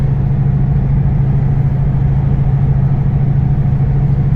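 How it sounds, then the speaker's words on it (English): A car cruises in fifth gear on a drive through Long Island's East End, its engine a steady, loud low drone heard up close from inside, with no talking. "Put it into the fifth gear, and now we're cruising."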